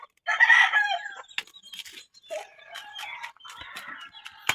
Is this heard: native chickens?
yes